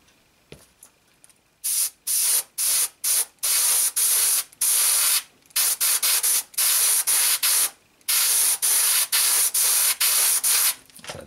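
An airbrush spraying a fine, grainy textured coat of paint onto a 1/24 Tamiya Ford GT model car, heard as a series of sharp, close hissing bursts separated by brief pauses, each about half a second to a second long.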